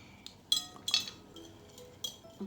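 Children stir healthy mango pancake batter in a bowl, a spoon clinking sharply against the rim in a few scattered, irregular knocks over a quiet background.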